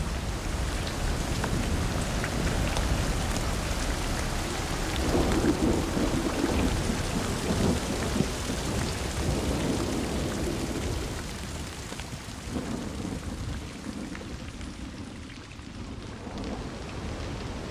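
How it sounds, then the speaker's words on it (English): Heavy rain pours steadily and densely on a wet forest at the foot of the Tatras in Slovakia, a loud continuous hiss with deep rumbling underneath, no voices. "The plants and animals that live here are used to the rain."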